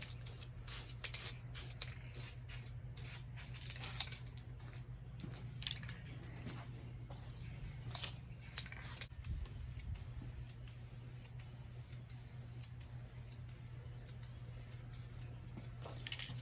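Spray paint hisses onto vintage Ford Bronco parts in a light tack coat, a series of short bursts of aerosol spray repeating steadily up close over a low background hum, with no voices.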